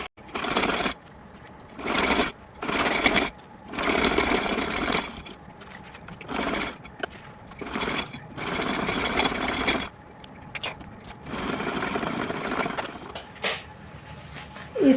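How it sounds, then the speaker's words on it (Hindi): Net fabric being stitched on a sewing machine for a Laddu Gopal dress, heard as repeated bursts of fast mechanical whirring broken by short pauses, fairly close and with no talking. "इस तरह से इस फैब्रिक को सिल करके मैंने कंप्लीट कर दिया है।"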